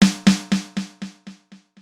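Snare drum hit followed by a mono delay set to eighth notes, giving eight evenly spaced repeats at a steady rhythm that fade progressively quieter, dry and alone with no talk.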